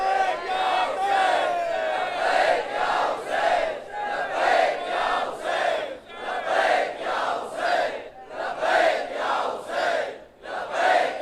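A large crowd at a Shia majlis on the martyrdom of Bibi Sakina chants Labbaik ya Hussain. Loud unison phrases repeat in a steady rhythm roughly every second, each swelling and falling with many voices together.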